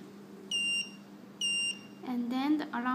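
Two short high-pitched electronic beeps from a security alarm host unit, about a second apart, followed by a person beginning to speak.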